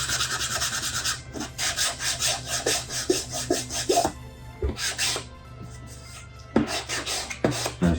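400-grit sandpaper rubbed over a 3D-printed part, a close, rhythmic rasping of quick back-and-forth strokes that runs steadily, pauses briefly, then resumes with sharper scrapes.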